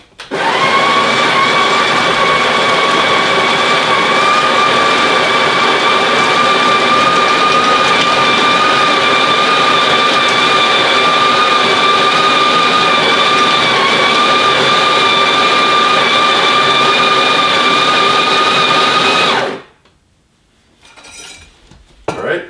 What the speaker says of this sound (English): that's going to activate a switch that will begin to grind the beans down into the portafilter basket